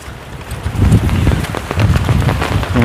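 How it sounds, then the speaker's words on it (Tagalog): Heavy rain pours steadily through a foggy forest, a dense, loud hiss of drops hitting leaves and ground that swells slightly midway, with no voices. "lumakas ang ulan tapos medyo may fog"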